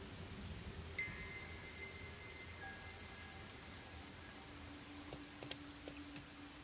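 Steady rain hisses throughout at a moderate level, with faint tonal hums and a few light ticks late on, no talking, in the video game Master Detective Archives.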